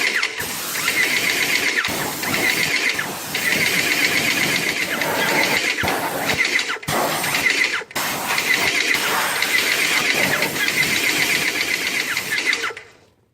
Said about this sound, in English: then you take your Krause and Becker paint sprayer